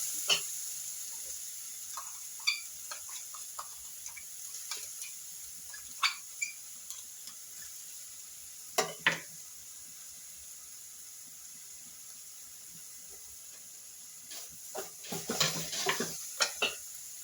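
Food frying in heated oil while a Kannada home cook prepares saaru, with faint scattered sizzles and crackles, brief bursts of louder spitting and stirring, and quiet gaps between.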